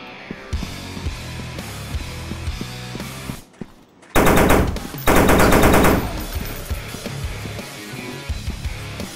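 Rapid automatic gunfire in the dinosaur-hunting shooter game Dinosaur Hunt, loud sustained bursts of machine-gun fire with a brief lull near the middle, then heavier dense volleys toward the end.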